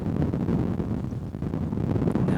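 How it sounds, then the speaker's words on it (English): Strong wind buffeting the microphone on an outdoor golf course, a continuous low rumbling roar with fluctuating gusts and no voices. "Look at that wind in your face."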